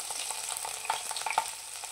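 Cumin, green chili and ginger slices fry in hot oil, giving a short burst of close crackling and popping with a few sharp spits over a light sizzle.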